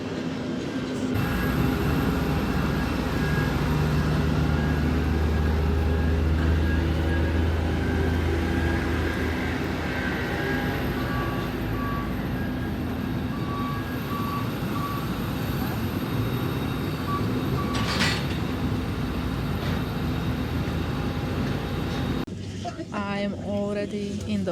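Inside an EasyJet airplane cabin during boarding, a steady low hum of aircraft systems and ventilation fills the space, with faint tones and murmuring passengers; a short voice appears near the end.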